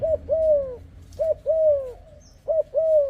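A dove coos nearby in three repeated two-part phrases, low and mellow, with short pauses between them and no speech.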